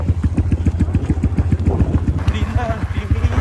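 A motorcycle engine runs steadily close by with a regular low chugging beat, loud throughout, with some clatter and a brief higher tone near the end.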